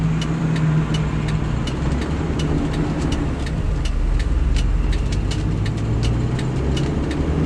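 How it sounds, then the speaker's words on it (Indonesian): Manual car with its engine idling and humming steadily before pulling away in first gear, a loud continuous low rumble with regular faint ticking on top and no talk. "Oke, siap-siap gigi 1, kita jalan."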